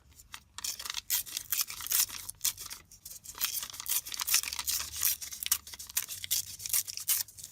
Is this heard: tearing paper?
yes